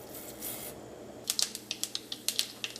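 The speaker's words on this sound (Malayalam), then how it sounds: "നമ്മുടെ വെളിച്ചെണ്ണ നന്നായിട്ട് ചൂടായിട്ട് ഇതിലേക്ക് നമുക്ക് കടുക് ഇട്ടിട്ടൊന്ന് പൊട്ടിക്കാം" Mustard seeds crackling in hot coconut oil in a clay pot for a Kerala cauliflower curry: a soft hiss, then a string of sharp, close pops and ticks coming in irregular quick bursts, with no one talking.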